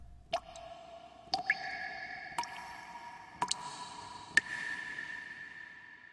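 Water drips into a pool of reddened water, single clear drops falling at irregular intervals, each a sharp ringing plop in an otherwise quiet, still space.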